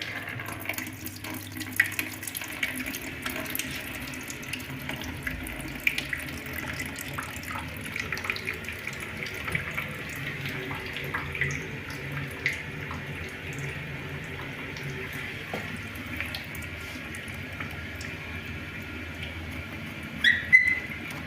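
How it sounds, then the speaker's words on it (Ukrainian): Water rushes and hisses steadily through the pipes of an apartment boiler system filling on first start-up, with a faint whistling tone and scattered clicks and gurgles, continuous throughout with no voices. "Чуєте, як у нас заповнюється водичкою"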